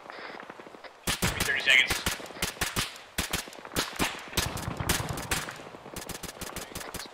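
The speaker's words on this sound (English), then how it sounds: "There's an HMG in the valley." Heavy machine gun fire echoing across a valley during a combat patrol: repeated sharp bursts and single loud cracks, some near and some distant, while someone talks over the radio between shots.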